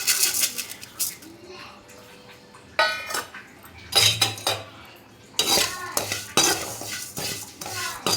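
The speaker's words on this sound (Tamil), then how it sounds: "இது கொஞ்சம் நல்லா ரோஸ்ட் பண்ணி வாசம் வரைக்கும் ரோஸ்ட் பண்ணி எடுத்துக்கலாம்" White poha is roasted dry in a pan for a homemade health mix, with bursts of rattling and scraping as a spatula stirs the flakes against the metal, separated by quieter pauses.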